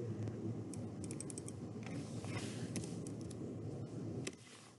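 Typing on a computer keyboard, fast, soft key clicks in irregular bursts, close and quiet against a steady low hum, ending with one firmer keystroke.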